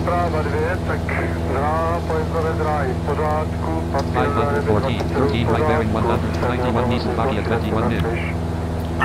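An airplane in a flight simulator game approaches to land at 140, its engine a steady low drone that runs throughout beneath continuous talking.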